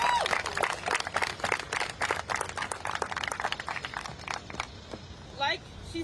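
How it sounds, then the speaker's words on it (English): Audience applause at a college student protest in Washington welcoming the next speaker: scattered, moderately loud claps that thin out toward the end, where a brief voice rises. "So everyone give a round of applause for our next speaker."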